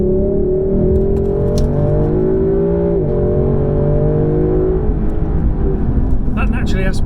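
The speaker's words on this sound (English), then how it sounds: "Naturally aspirated 5-litre V8 sounds fantastic" Engine of a Lexus LC500 sports coupe with a naturally aspirated 5.0-litre V8, a steady loud droning note that rises and falls slightly while driving, continuous throughout.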